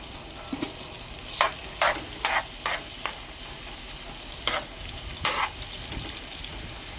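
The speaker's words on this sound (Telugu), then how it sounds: "అలాగే మనం కట్ చేసి పెట్టుకున్న ఉల్లిపాయలు యాడ్ చేసుకుందాం." Chopped onions hit hot oil in a pan for a moon fish curry, a steady sizzle punctuated by several sharp stirring scrapes and clinks, close up with no talking.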